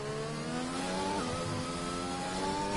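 An F1 race car in a Singapore league race of a racing video game accelerates down the straight, its engine a steady, loud, high whine climbing in pitch throughout.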